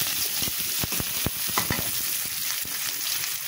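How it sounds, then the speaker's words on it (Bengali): Ingredients for a shrimp and papaya curry frying in a pan, a constant sizzle broken by frequent crisp clicks and scrapes of a utensil stirring, nearby and moderately loud, no voices. "এগুলো একটু ভেজে নিলাম"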